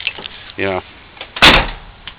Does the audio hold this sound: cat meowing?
no